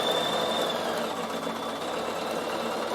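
A Bernina sewing machine runs a steady trial stitch, its fast continuous whirring and rattle heard close and alone for the full stretch.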